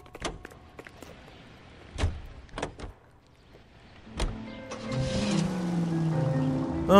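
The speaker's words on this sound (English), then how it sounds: "As Biggs just goes through the door." In the video game L.A. Noire, a door swings open with a few sharp creaks and clunks, then a rising mechanical groan and sustained rumble as it moves through.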